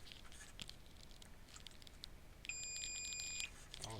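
Steady electronic beep from a multimeter on continuity test while checking a filter on an original Xbox board during repair of an Intec portable LCD, one sustained tone of about a second, clear over quiet room noise.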